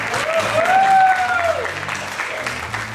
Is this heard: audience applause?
yes